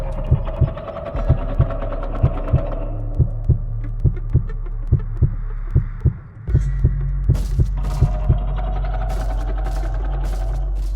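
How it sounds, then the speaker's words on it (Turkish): A steady, loud heartbeat from a Roblox horror game thumps in an even rhythm over a low droning hum, with the background tone shifting partway through; no speech. "Kalp atışlarını şey yapıyorum dur."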